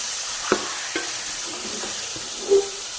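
Washed chicken necks and gizzards fry in a pan with a steady, fairly loud sizzle, broken by a few spatula knocks and a short squeaky scrape.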